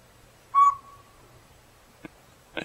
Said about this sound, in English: This is a little bitty owl, about the size of a robin.